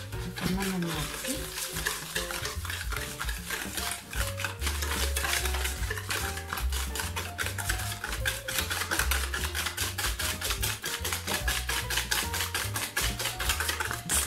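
Sugar, 150 grams, whisked by hand in a bowl, producing rapid, steady, rhythmic scraping strokes that run throughout beneath background music.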